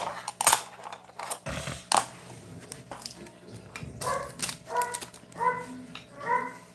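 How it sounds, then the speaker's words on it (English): Several dogs whimpering and whining indoors, a series of short high-pitched cries in the second half after some rustling and handling noises, fairly close. "Ignore my dogs, they're being silly again."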